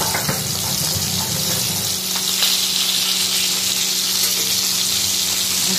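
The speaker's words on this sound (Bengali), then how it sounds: "আর এখানে দেখো মাছটা ভাজতে দিয়ে দিয়েছে হয়ে গেছে" Fish coated in mustard frying in oil in a kadai, a steady close sizzle with a faint watery hiss running underneath throughout, no voices.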